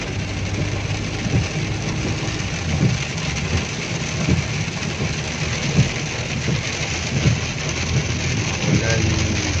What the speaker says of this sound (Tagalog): Hanggang ngayon maulan pa rin.